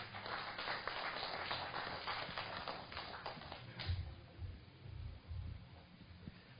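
Faint, distant crowd applause welcoming a National Assembly member at an international academic conference marking the 1,600th anniversary of the Gwanggaeto Stele; steady clapping that thins out and fades after about four seconds.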